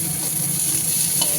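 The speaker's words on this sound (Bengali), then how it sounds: "পেঁয়াজগুলো মোটামুটি ভাজা ভাজা হয়ে গেলেও" Sliced onions fry with black cumin and green chillies in a pan, a loud, continuous close-up sizzle with steady scraping as they are stirred, and no voices.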